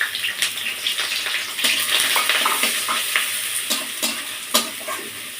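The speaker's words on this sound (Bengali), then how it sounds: "প্রথমে আমি পেঁয়াজ কুচনোটা দিয়ে দেব।" Chopped onion frying in fish-and-potato oil in a wok, a loud steady sizzle with crackling pops and scraping stirs throughout, no voices.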